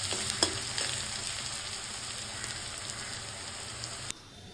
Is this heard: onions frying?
yes